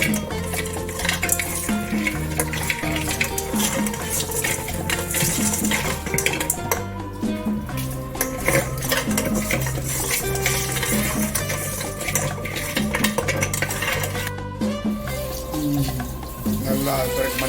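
A ladle clinks and stirs through water mixed with turmeric powder, with steady metallic scraping and sloshing throughout while a voice talks over it.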